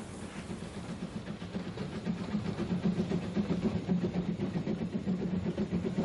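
Narrow-gauge steam locomotive Earl working on the Welshpool and Llanfair Railway, a steady rumbling run with a rapid rhythmic chuffing and wheel clatter that swells gradually louder and nearer, with no voices.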